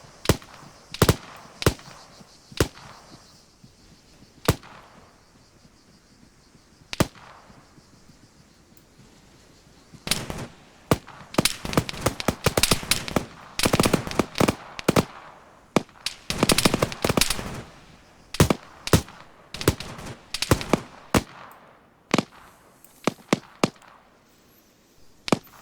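Gunfire in the military shooter ArmA 3 during a squad training session: sharp isolated shots early, then dense bursts of rapid automatic fire in clusters, loud and close with little talk.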